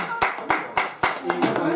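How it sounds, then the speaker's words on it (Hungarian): A few people clap in sparse, separate sharp claps, about four or five spaced hits at a birthday gathering in Alsógalla, with talk running underneath. "Tapsot neki!"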